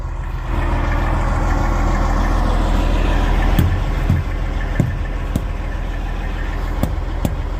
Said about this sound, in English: Hear that? That's a flat tire.